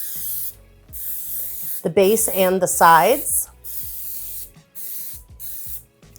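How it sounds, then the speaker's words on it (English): Nonstick cooking spray hisses from a can into cake pans in short bursts, close and loud, while someone talks over the spraying. "I'm just gonna spray each of these with nonstick spray,"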